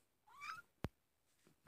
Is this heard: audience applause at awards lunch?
no